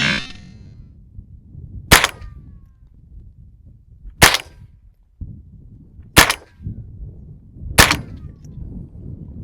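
Four sharp .22 rifle shots fired at an eye protection target roughly 25 to 30 yards away, spaced about two seconds apart, each a loud crisp crack over low outdoor background rumble.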